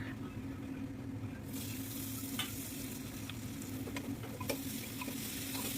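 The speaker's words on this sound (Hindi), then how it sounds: "और कुकर में छौंक देती हूँ, तो बस डायरेक्ट जीरा और तेज़ पत्ता डाल दिया" Cumin seeds and a bay leaf hit hot oil in a pressure cooker and set off a steady, bright sizzle. Soft clicks and stirring taps of a spoon sit close by, and the hiss carries on without a break and without speech.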